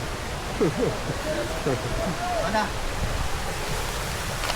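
Steady rushing river water along a hiking trail near Kanapsan falls, a continuous broadband wash heard up close, with voices talking over it.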